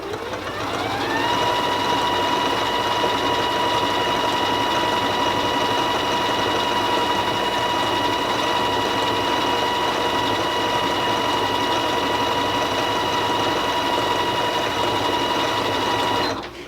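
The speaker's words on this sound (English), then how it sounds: "We're going to use the start-stop button once again because it's just fun to use and a nice consistent stitching speed" A Janome Skyline S3 sewing machine runs at a steady, consistent speed while stitching decorative stitches, giving a continuous close mechanical whir with a steady tonal hum that ramps up at the start and cuts off at the end.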